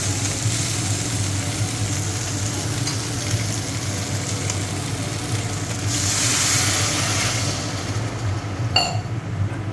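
Small fish fry in a pan with a dense, steady close sizzle; a hissing surge partway through marks water poured in, and a brief utensil clink follows near the end.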